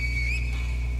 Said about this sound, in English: use the finger whistle. Make sure to hold it because it'll delay the sound.